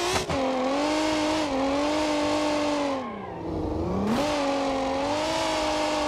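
A V6 car engine in BeamNG Drive hums steadily at moderate revs, dips briefly as the throttle lifts, then climbs back to a sustained drone, close and continuous with no talk.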